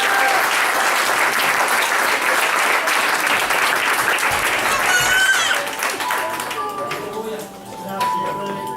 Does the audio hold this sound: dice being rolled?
no